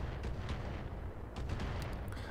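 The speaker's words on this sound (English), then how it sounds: "those missiles coming from probably the turrets" Missiles fired from turrets in a mech combat video game, a continuous low rumbling barrage with dull thudding impacts and brief bright crackles, heard at a distance and fairly faint.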